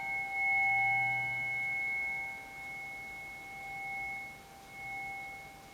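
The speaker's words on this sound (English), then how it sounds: "So I'm just going to play these tones for you." A soft steady tone standing for the Sun plays during an astrology and tarot reading, a faint, even hum made of several layered pitches held for several seconds with no voices.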